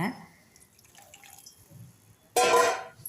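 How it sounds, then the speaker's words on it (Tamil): Quiet kitchen clatter, then a sudden loud rush of water pouring into a pan of broad beans for about a second, splashing and bright. "தண்ணி ஊற்றிடுங்க"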